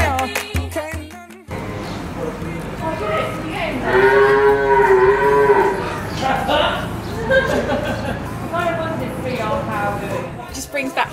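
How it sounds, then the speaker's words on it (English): A cow calf in stables lets out a drawn-out, wavering moo up close. Music fades out at the start, and light laughter and chatter sit beneath it. "how we spent 10 minutes trying to make a cow calf moo"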